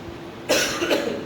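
Two short, sharp coughs about half a second apart, close by, with a quiet background and no talking.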